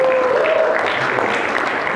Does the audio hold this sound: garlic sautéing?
no